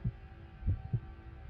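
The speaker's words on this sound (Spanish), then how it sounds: "Solo podía escuchar los latidos de mi corazón." Heartbeat sound effect, low and muffled, with three thumps in an irregular pattern over a faint steady hum and no voices.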